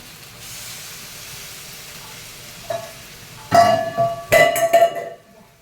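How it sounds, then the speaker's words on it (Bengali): Water splashes into a hot pan of frying fish for a spicy Bengali puti fish curry, bursting into loud hissing and sizzling steam after a quiet simmer, with two strong surges that fade at the end. "জল দিয়ে দিই।"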